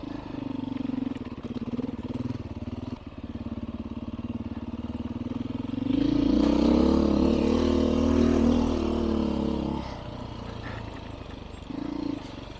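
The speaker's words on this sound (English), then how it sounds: "enjoy the act of riding a motorcycle." A Beta 500 RRS dirt bike engine, running its lower-power rain map, hums along, then surges louder as the rider accelerates for several seconds before easing back to a steady, buzzing run.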